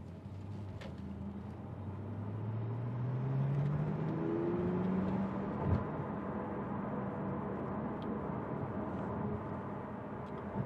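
A 2017 Porsche 911 Turbo accelerates on a street in Las Vegas, its engine note rising steadily in pitch through the gears as a smooth, building roar that then settles into a sustained cruising hum.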